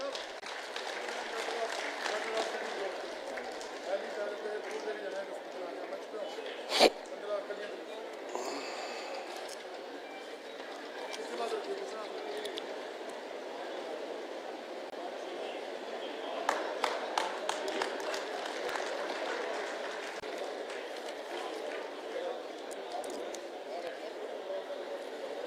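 A crowd at a BJP Dhanna Bhagat Jayanti event in Pillukhera, Haryana, welcomes an MP with scattered, fairly soft clapping. It runs beneath ongoing speech over a PA, with a brief louder burst of claps partway through.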